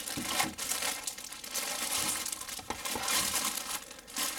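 Plastic packaging around a Logitech-Saitek flight yoke clamp is pulled and torn open, giving continuous loud crinkling and crackling close by for several seconds with no talk.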